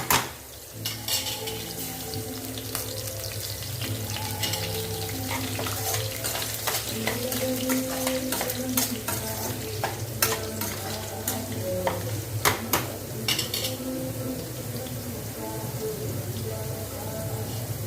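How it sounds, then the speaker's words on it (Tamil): Ingredients sautéing in a pan, a continuous sizzle with frequent scraping and clinking of a spatula against the metal, close and steady throughout. "இது போல் வதங்கி வரட்டும்"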